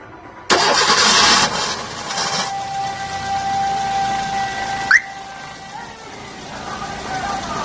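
A Suzuki Swift Dzire with a 1.3 litre petrol engine cranks and catches with a loud burst, then settles into a steady close idle with a faint whine, one brief blip partway through.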